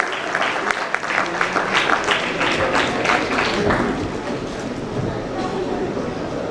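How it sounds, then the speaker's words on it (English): Sustained applause from an audience at a business leadership awards ceremony, a dense steady wash of clapping that fills the whole stretch. "put your hands together and make it a loud round of applause"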